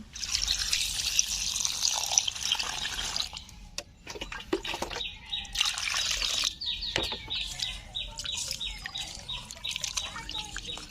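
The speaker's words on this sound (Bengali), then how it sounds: "মাছ কেটে নিয়েছি, ধুয়ে নিচ্ছি।" Cut small fish are rinsed in water in a village kitchen, with close trickling, splashing and dripping that stops and starts, while a bird chirps faintly in the background.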